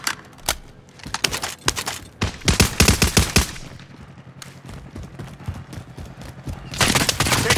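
Gunfire in a shooter video game crackles in rapid bursts and single sharp shots, loud and close, with a steady background hum between volleys.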